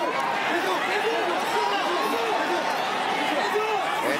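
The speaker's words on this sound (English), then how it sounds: "Anticipation of the crowd." A crowd at an MMA fight murmurs and chatters in anticipation, a dense, steady wash of many distant voices with no single speaker standing out.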